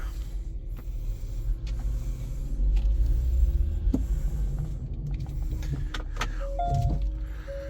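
A 2020 Kia Niro Executive Line car pulls away, giving a steady low hum and rumble with a faint whirring motor and a few light clicks, close by and without speech.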